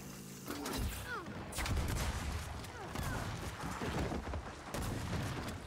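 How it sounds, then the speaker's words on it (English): Shotgun fight in Gears of War 4 multiplayer, with repeated loud booming blasts and bursts of gunfire following one another in quick succession, a voice briefly heard underneath. "We have ourselves a shotgun battle here"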